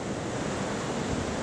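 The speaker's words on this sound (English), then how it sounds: "the waves were just too loud" Ocean waves break on a San Francisco beach in a steady, unbroken roar of surf, with some wind buffeting the microphone and no voices.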